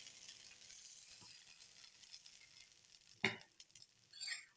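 Thin kollu (horse gram) dosa frying on a small stone griddle with oil, a steady soft sizzle and crackle throughout, with a sharper burst of spitting near the end.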